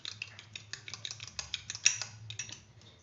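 Crushed sugar is stirred in a bowl while making a mango sandwich: a spoon scrapes and clinks in quick, uneven strokes, close and clear, with no speech.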